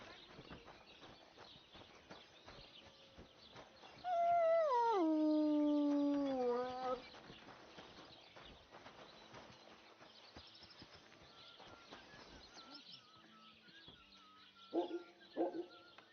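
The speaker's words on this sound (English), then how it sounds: "Aye, aye, you silly doggy." A dog in Kingdom Come Deliverance II, a medieval-setting video game, gives a loud drawn-out howl lasting a few seconds, with short barks and other game sounds scattered before and after.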